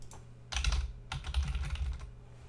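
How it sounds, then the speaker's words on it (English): Keys clatter on a computer keyboard as a password is typed, in two quick bursts of soft, close taps over a faint hum. "Then you put in the password that you have created and click on the login button."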